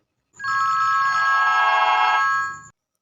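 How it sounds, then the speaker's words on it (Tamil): Telephone bell ringing in a Tamil comedy scene, one continuous loud electronic ring lasting about two seconds, then cutting off, with no talk over it. "மறுபடியும் ஃபோன் அடிக்குது"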